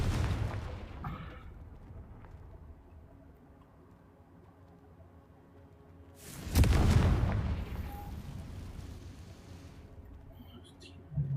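Confringo fire spell explosion in Hogwarts Legacy: a sudden loud, broad boom bursts in midway and decays into a rumbling tail, with lower game ambience and a faint earlier impact.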